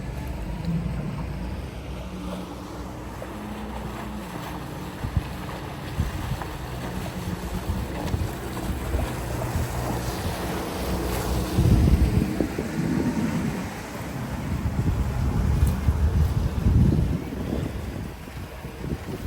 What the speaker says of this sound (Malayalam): ഈ ബോട്ടിലാണ് നമ്മളിനി പോകാൻ പോകുന്നത്